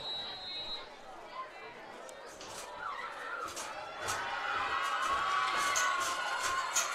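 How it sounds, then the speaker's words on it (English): Crowd noise swells at a high school varsity football game as fans cheer for the Stars defense, a steady roar with scattered shouts building louder toward the end, mixed with distant chatter. "Crowd getting loud again here for the Stars defense"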